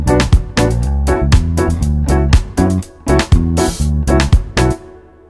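Two layered drum kits sound together in a full mix, with punchy, closely spaced kick, snare and cymbal hits in a steady groove that stops abruptly near the end.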